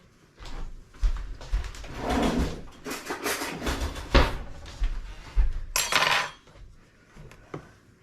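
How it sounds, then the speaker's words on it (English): Whole wheat flour being scooped into a measuring cup for brown bread, with repeated scraping, soft thuds and light metallic clinks from the scoop and cup, close by and with no talking. "I'm going to scoop it into the cup so that I get virtually the same amount in each cup"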